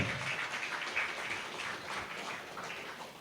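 An audience at an inspiring talk event gives a sustained round of applause, a steady wash of clapping that holds at an even level for the whole stretch with no voices over it.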